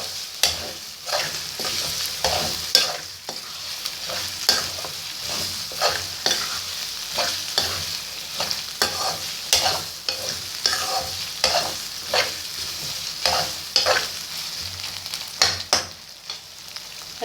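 Minced meat for qeema karahi is stirred and fried in a pan, giving a steady sizzle broken by repeated scraping strokes of the spoon at an irregular rhythm, close and with no talking.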